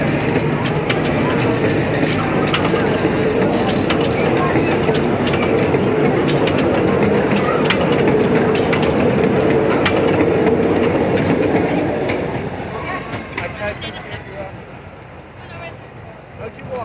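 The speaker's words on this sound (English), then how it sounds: "There's a train here." A theme park train rumbles past with rhythmic clickety-clack of wheels on rails, loud and close, then fades as it moves away.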